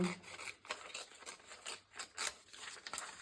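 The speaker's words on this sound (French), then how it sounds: "je vais découper un morceau du calque que je vais venir mettre" Scissors cutting a piece of tracing paper for card making: soft, quiet crisp snips and rustling in an uneven rhythm, close up with no talking.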